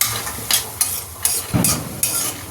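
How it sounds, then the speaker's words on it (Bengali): Lentil dumplings (bori) fry in a pan with a continuous close sizzle, and several sharp scraping stirs come at a roughly even pace without any voices. "আগে বড়িটাকে ভেজে নিই"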